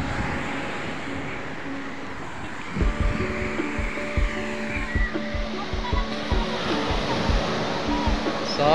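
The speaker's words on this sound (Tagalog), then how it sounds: "lakas ng alon, grabe." Strong ocean waves wash at a beach in a steady, broad roar, with a rumbling surge building partway through, while people swim nearby and faint voices sit under the surf.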